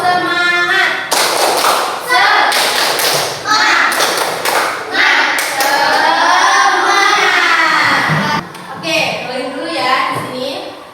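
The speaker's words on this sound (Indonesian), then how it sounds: "1, 2, 3 tepuk semangat." An Indonesian classroom of children performs the tepuk semangat spirit clap, a patterned series of sharp, loud claps and thumps with chanting voices over and between them.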